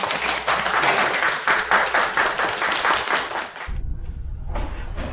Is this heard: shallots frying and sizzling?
no